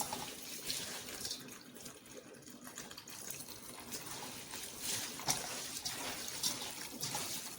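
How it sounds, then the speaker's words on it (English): Water runs from a kitchen tap in a steady trickling flow while preparing pap from scratch, continuous and moderately close throughout with no talking. "So running the water."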